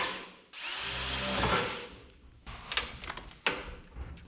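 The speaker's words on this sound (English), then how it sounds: "Take our drill bit here, we'll just drill some new holes to be able to pop our loom up in." A power drill bores new holes in the metal of a 1967 Toyota pickup to mount a wiring loom, whirring loudly up close for about a second and a half, followed by scraping and clattering handling noises.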